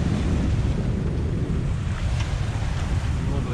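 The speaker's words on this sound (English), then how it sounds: "And it's only going to get windier." Strong wind roars steadily across the microphone aboard a sailboat at sea, with rushing water and waves underneath, loud and unbroken throughout.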